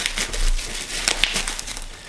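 A small plastic package around a miniature iPhone look-alike cut open with a blade, giving a close crinkling and crackling of wrapping with a few sharp snips, steady and near, without talking.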